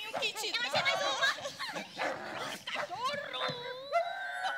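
An actor playing in a Robin Hood stage play gives a voiced imitation of a dog, with a run of yipping, barking calls mixed with other spoken voices.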